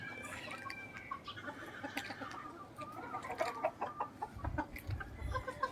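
A flock of four-month-old chickens clucks and chatters softly, the calls overlapping in a quiet, continuous murmur.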